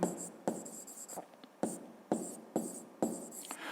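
A pen scratches out a physics solution on paper in short, repeated bursts of strokes with small pauses between, close and fairly quiet, with no talking.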